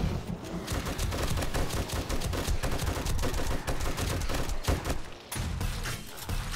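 Defensive turrets and a handheld weapon blaze away in the survival game 7 Days to Die, a continuous dense barrage of overlapping gunshots, loud and sustained with only a brief dip near the end.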